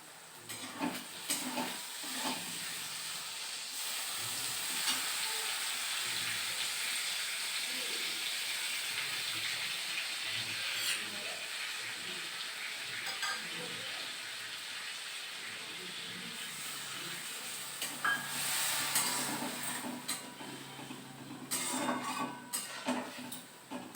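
Garlic cloves, ginger paste and green chillies sizzle and hiss in a hot frying pan, a steady crackling spray with occasional stirring clatter, a louder burst near the end.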